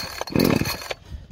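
An Echo CS 310 chainsaw is pull-started, a brief, close rasp of the recoil starter with the engine turning over once, loud and short.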